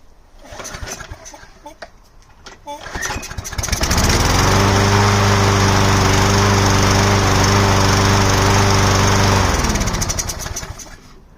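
A repaired lawn mower engine cranks with sputtering pulls, then catches and runs steady and loud at close range for several seconds before cutting off, the air filter casing still removed.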